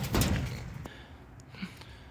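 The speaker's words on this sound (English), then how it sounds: "Garage door's open here. It's a newish garage door, no opener." A newish manual garage door without an opener is lifted open by hand at a house being inspected before a flip. A loud rumbling thud comes first, then fainter rattles and clicks.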